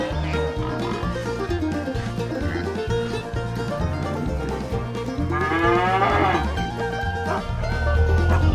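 Simmental cow, a mother cow with calves, lowing in several drawn-out moos over a steady background of music, with a dog-like bark mixed in.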